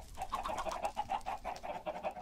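Chickens in the video game Minecraft cluck in a quick, repeated run of short calls, close and fairly loud, with no talk over them.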